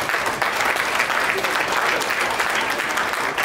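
Sustained audience applause in a lecture hall, a thick even roar of many hands clapping at once, steady and fairly loud from start to finish.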